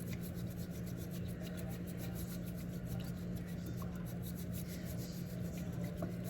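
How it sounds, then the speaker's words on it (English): Matcha latte being whisked until foamy, a soft, steady, close rasping swish that runs continuously and quietly without pause. "So I'm gonna whisk it like so"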